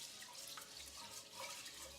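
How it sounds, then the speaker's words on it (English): Rice is swirled by hand in a bowl of water, giving a faint, quiet sloshing and trickling with no talking. "You put it in some water, and then just go in and swirl it around with your hands."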